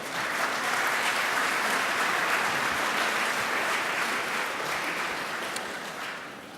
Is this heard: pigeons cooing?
no